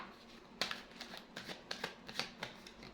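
Tarot cards being shuffled and drawn during a reading, with a series of soft, crisp card snaps and riffles spaced roughly every half second over a quiet background.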